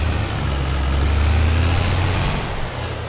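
A Sonalika 60 DI tractor engine in Farming Simulator 22, pulling a large sugarcane trolley, drones at a steady low idle-like rumble that stays constant and close throughout.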